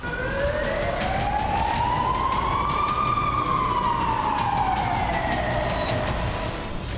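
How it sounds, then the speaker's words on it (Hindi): Sirens wail continuously in Israeli cities during wartime attacks, with rising and falling tones that overlap at a steady volume over a constant rumble of traffic. "इजराइल के कई शहरों में लगातार सायरन बज रहे हैं"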